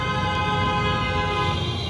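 A car horn sounds in heavy London traffic after drivers pull over for a passing ambulance, a steady blaring tone held for about two seconds over loud road and engine noise.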